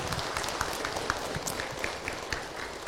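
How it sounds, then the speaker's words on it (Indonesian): Steady, dense clapping from a religious gathering audience, a continuous patter of many hands at moderate volume with no voices standing out. "Tepuk tangan buat Ibu Hadijah"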